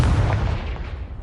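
Confringo, a blasting spell in the Hogwarts Legacy video game, explodes with a brief, heavy booming burst that rumbles low and fades away within about a second.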